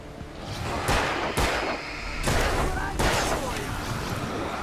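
Gunfire from Alan Wake, four heavy, separate shots spaced about a second apart, each a loud crack with a ringing tail over steady game noise, with speech-like sound mixed in.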